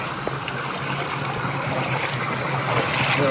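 A waterfall's steady rushing water fills the scene, a continuous broad roar with no pauses and no voices.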